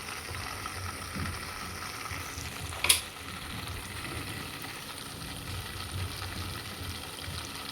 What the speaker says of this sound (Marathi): आता ते उकळत आहे.